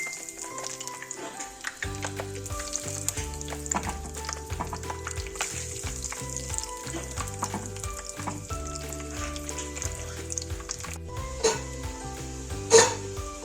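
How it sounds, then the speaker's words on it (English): Potato balls fry in hot oil with a steady crackling sizzle and small pops, close and continuous, under background music with no speech. "We cook it in hot oil until it is thoroughly browned."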